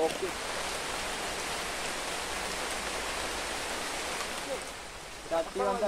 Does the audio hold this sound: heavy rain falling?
yes